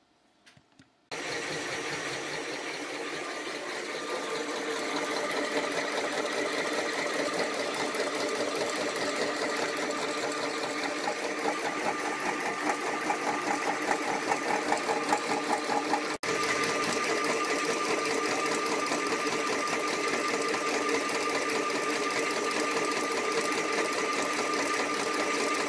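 An embroidery machine stitching a bunny design runs with a fast, steady mechanical chatter and hum, close and continuous for over twenty seconds.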